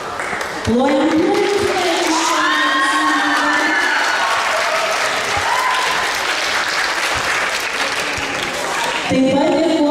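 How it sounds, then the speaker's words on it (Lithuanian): An audience at a Latvian folk dance and music festival concert applauds in a sustained, even burst of clapping close by, with a voice speaking over the start and end. "Plojam."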